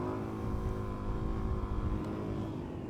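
A motorcycle engine holds a steady, loud drone in third gear during wheelie practice, its harmonic hum continuous and close with no talking.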